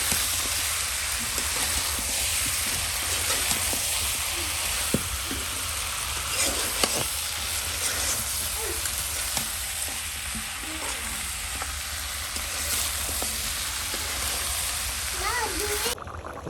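Food frying in a pan, a continuous crackling sizzle with faint stirring and spatter, close and steady throughout, while a voice speaks intermittently over it.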